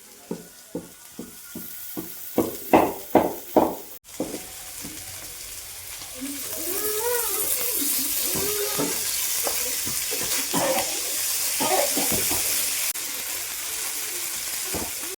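Fish fries in hot oil, a run of sharp knocks at first giving way to a steady close sizzle and bubbling, with voices talking over it.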